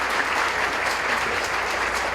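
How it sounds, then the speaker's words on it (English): Steady, dense applause from an audience at a breast cancer summit, continuous and fairly loud for the whole stretch with no voices above it. "So please join me in giving Kristen a round of applause."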